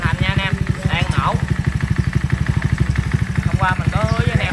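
A modified Honda Wave motorcycle engine, rebuilt with a racing cylinder and three valves, running with a fast, even rhythmic putter up close, while someone talks over it.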